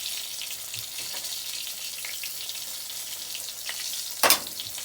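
Chicken of the Woods mushrooms dipped in flour and egg and frying in a pan, a steady, soft hiss of oil with a few faint clicks and a brief louder scrape near the end.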